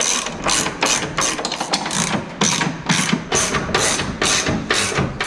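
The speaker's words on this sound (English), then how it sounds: "So then tightening the bolts." Ratcheting and clicking of a wrench tightening towbar hitch bolts under a VW T4 van, a steady run of close, rhythmic ratchet clicks with no talking.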